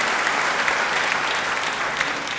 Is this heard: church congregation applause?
yes